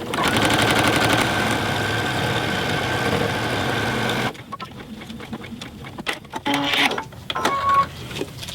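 A serger stitches a face mask strap in a fast, loud mechanical whirr lasting a few seconds, then stops abruptly, leaving scattered handling clicks and rustles.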